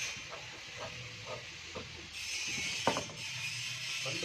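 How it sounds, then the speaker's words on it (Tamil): Scissors cutting the front panel of a pavadai, a child's long skirt: a steady run of crisp, rhythmic snips about twice a second, close by, over a constant hissing background with no speech. "ஃப்ரண்ட் பார்ட்டை கட் பண்ணிக்கலாம்."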